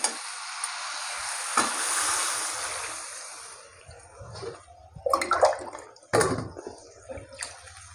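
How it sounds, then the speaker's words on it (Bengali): Water poured into a pan of well-fried fish curry masala for a green banana and brigade fish curry, giving a broad rushing splash at the start that fades to a soft simmer, followed by a few clinks and stirring noises. "এবার দিয়ে দেবো জল।"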